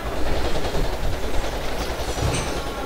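A train in the Plants vs. Zombies: Garden Warfare shooter rumbles past up close, a dense, loud, continuous roar of wheels and clatter with no voices.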